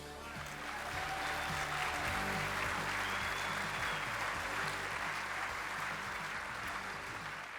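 A gala audience applauds the NEA Foundation Board of Directors, the clapping swelling after a moment into a steady, even wash that holds to the end, with faint music tones lingering underneath.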